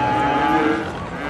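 A single drawn-out cow moo with a synthetic, slightly warped tone, loud and close, a sound effect from the city-building game Cities: Skylines.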